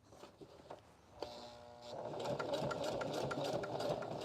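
A sewing machine sewing a simple straight stitch starts up and runs steadily, a close, continuous mechanical whir with rapid needle ticking that rises in level and holds, with brief quiet handling sounds before it.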